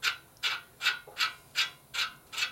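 Ratchet wrench turning a bolt on a Harley shovelhead stroker big bore motor, seven quick evenly spaced clicking ratchet strokes, close and fairly quiet, with no talk.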